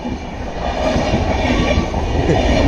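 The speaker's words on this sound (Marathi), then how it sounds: "दिवा ट्रेन काय विचारता दिवा ट्रेन" A train rushes past at Diva station in Maharashtra, a loud, close, continuous rumble with rhythmic wheel clatter that lasts the whole stretch, with no voices.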